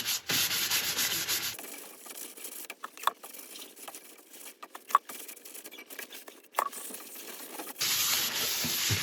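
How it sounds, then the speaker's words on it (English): Isopropyl alcohol is rubbed into turned wood with a cloth to clean out the pores, giving close, dry scrubbing strokes and soft patters in irregular bursts, with a louder hiss at the start and end. "we just need to clean out the pores of the wood. And we're going to use isopropyl alcohol for this."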